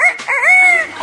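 A trained talking bird mimics a rooster's crow, giving a single loud, drawn-out tonal call close up with a rising and falling contour.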